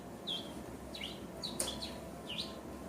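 Thin, high whistled chirps imitate a small bird, four or five short rising-and-falling calls spaced about half a second apart over steady low room noise, with no talking.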